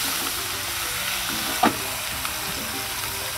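NY strip steaks frying on a 22-inch Blackstone griddle, a continuous close sizzle with a brief metallic scrape of a spatula midway and a faint tap later, no talking.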